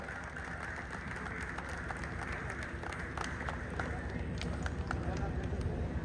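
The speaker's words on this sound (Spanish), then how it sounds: "Fuerte el aplauso." A crowd applauds at the inauguration of a sports coliseum as an honoree and family step forward, dense clapping mixed with loud crowd noise and talk.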